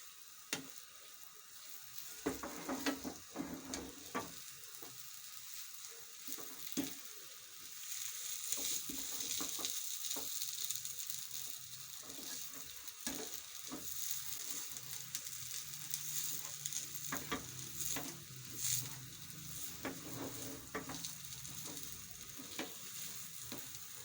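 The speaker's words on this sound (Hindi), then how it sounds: "दस मिनट हो चुके हैं हमें इस मिक्सचर को फ्राई करते हुए" Potato kebab mixture with masala frying in a pan, a soft continuous sizzle broken by scattered scraping and stirring knocks of a spoon against the pan, fairly quiet and without speech.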